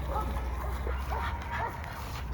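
A dog whimpers and yips softly in short bursts during an obedience training session with an e-collar, its small vocal sounds fairly faint over a steady low background hum.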